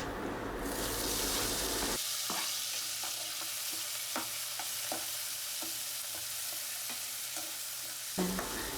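Tomatoes go into a hot pan for poha and are stirred, giving a steady sizzle with light, intermittent scraping and tapping from the spoon, close by and without speech.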